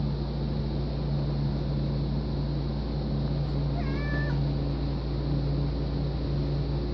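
A domestic cat gives one short, faint meow over a loud, steady humming drone in an indoor room.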